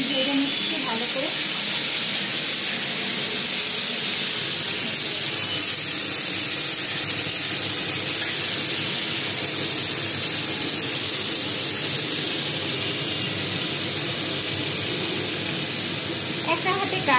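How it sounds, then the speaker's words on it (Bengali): Peas and cauliflower frying in ghee in a home kitchen pan give a steady, close sizzling hiss that runs unbroken throughout, with a voice talking over it. "দিয়ে গিয়ে সবজিটা দেখতে পাচ্ছি আমি ভেজে নিচ্ছি ভালো করে।"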